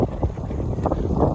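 Wind buffeting the microphone during a road test on a Touroll B1 ride-on electric scooter, a loud, continuous rumbling roar with gusty swells and no clear other sounds.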